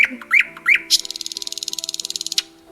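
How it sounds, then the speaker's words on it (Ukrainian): Sparrows give a few sharp chirps, then a rapid, loud trill of repeated notes lasting over a second, close and clear against a quiet background. "Так, це пташечки, горобці. Але чому вони так голосно цвірінькають?"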